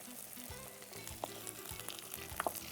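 Onion and tomato sauté in hot oil in a pan, with ginger-garlic paste, giving a steady low sizzle and a few soft stirring knocks, fairly faint and close, with no voices.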